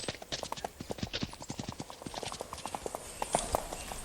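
A horse in a video game trots along with steady, rhythmic clip-clop hoofbeats that stay close and moderately loud throughout.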